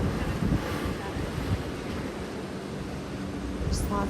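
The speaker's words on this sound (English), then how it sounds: "You get to see all the waves crashing in on these rocks." Ocean surf rolls against lava rocks at Spouting Horn on Kauai, a steady broad roar mixed with gusting wind on the microphone, with a faint voice and a brief bird-like chirp near the end.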